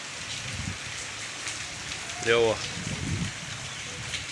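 Steady rain hisses throughout over a farm field, broad and even, while someone briefly speaks over it in the middle.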